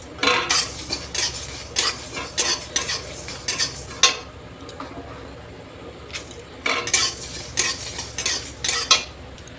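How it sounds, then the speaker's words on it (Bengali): A spice mix with white and black mustard seeds being dry-fried in a pan for raw mango pickle, with repeated scraping and stirring strokes of a utensil against the metal and a faint sizzle between them. "এবার আমি মশলাটাকে ভালো করে ভেজে নেব। এবার কিছু সাদা সর্ষে দিয়ে দেবো, আর দেব কিছু কালো সর্ষে।"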